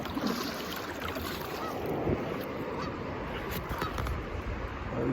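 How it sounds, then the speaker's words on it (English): Geese honk repeatedly over the water of a river during a kayaking and fishing trip, set against steady wind and lapping waves. "Geese are giving me the business."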